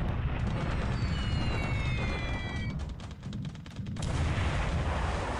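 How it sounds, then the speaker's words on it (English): A massive explosion in the naval strategy game War in the Pacific rolls out as a dense, rumbling roar. It dips briefly partway through, then surges back, with no voices over it. "Massive explosion."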